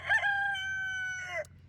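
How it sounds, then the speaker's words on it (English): A rooster crows once, a loud, close, drawn-out call lasting over a second with a rough start and a cracked ending, standing alone with no talking. "Want to see the chickens, eh?"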